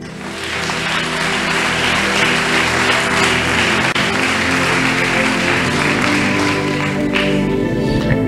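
A church congregation applauds to acclaim the Lord during a sermon, steady dense clapping and crowd noise sustained at full level throughout, close and loud with no pauses.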